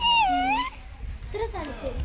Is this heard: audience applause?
no